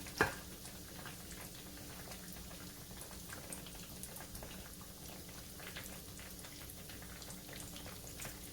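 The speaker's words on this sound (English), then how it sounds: "we're gonna let them fry so they get nice and golden brown" Food frying in a pan, a quiet, constant crackle and sizzle that carries on evenly without pause, with no voices.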